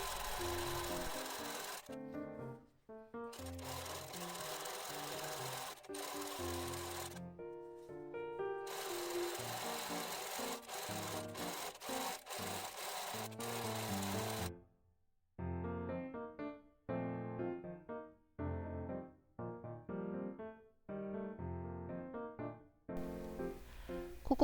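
A sewing machine edge-stitches the cut edges of small patchwork fabric scraps, running in repeated bursts of rapid whirring needle strokes separated by short pauses, close and clear with no talk.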